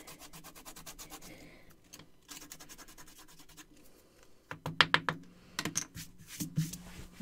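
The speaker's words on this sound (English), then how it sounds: "I'll rub it just to take that shine off." Painted steampunk-style journal cover rubbed by hand to dull its shine, soft scratchy rubbing at first, then louder quick bursts of scraping strokes close by, no talk.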